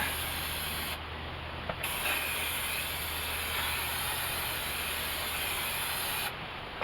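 A steady, loud hiss of spray adhesive from an aerosol can runs almost continuously, close by, with brief shifts in tone and no talking.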